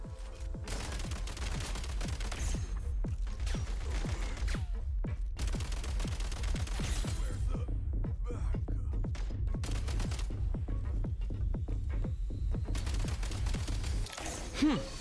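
Rapid automatic gunfire from a recoiling firearm in Genshin Impact, a steady stream of shots rattling continuously over a low game backdrop for the whole stretch.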